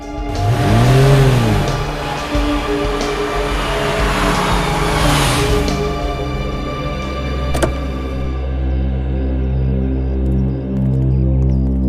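A car engine revs loudly up close and then settles into a steady idle as the car is parked in a narrow residential lane.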